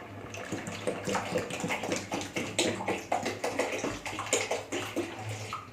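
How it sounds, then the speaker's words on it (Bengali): Water poured into a pot of rice in a home kitchen makes a continuous, close splashing gush that holds steady for several seconds without talking. "চলো ভাতে জল দিলাম, ভাতটা হোক"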